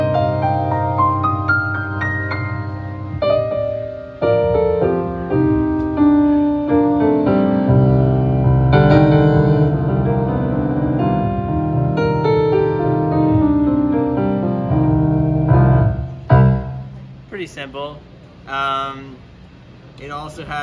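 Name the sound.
Nord Stage 3 keyboard playing piano sound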